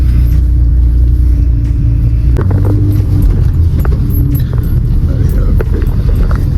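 A BMW E36 323i engine runs at idle close by, a loud, steady low rumble with a slight lift in tone partway through and scattered clicks and knocks over it.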